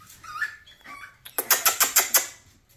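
American Bully puppies whimper softly at first, then break into a quick run of six close, sharp yaps in an even rhythm that fades out.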